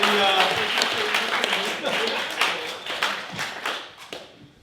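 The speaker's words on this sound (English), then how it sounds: "give her a big round of applause" Studio audience applause on a comedy improv show, a burst of clapping that starts strong and gradually dies away, with voices talking and laughing through it.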